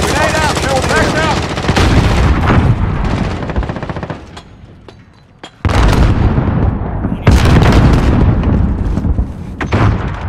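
Loud gunfire and a grenade blast in a Modern Warfare multiplayer match set in St. Petrograd, with rapid bursts of shots, a brief lull, then sharp booms and renewed firing, while game voices call out over the fighting.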